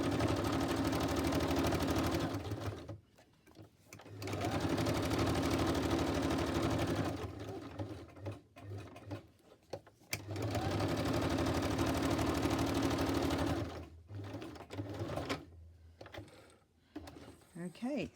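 A sewing machine stitches around folded fabric in loud, steady mechanical bursts, running for a few seconds, stopping, then starting again, with short pauses and faint handling noises between runs.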